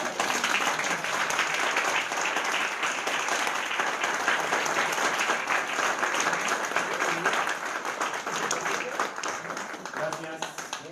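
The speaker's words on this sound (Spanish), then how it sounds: "compañeras, vamos a darles un fuerte aplauso." A crowd at a gathering against youth militarization in schools gives a long, loud round of applause, dense clapping that holds steady for several seconds and then thins slightly, with voices audible underneath.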